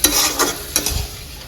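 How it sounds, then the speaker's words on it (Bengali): Leafy greens (shak) frying and being stirred in a pan in a home kitchen, with repeated sizzling bursts and scraping stirs that rise and fall, close and fairly loud, with no talking. "আর এদিকে হচ্ছে শাক ভাজাটা হচ্ছে"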